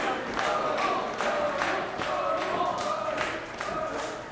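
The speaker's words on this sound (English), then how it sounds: "The crowd is fired up." A wrestling crowd at a tag team title match in a small venue in Shelby Township roars and cheers, with rhythmic bursts of clapping or stomping repeating throughout.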